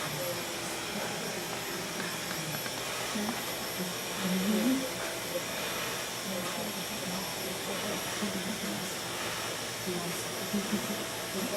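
A salon hair dryer runs on full heat, a steady whirring blow held at an even level throughout, with faint talk underneath.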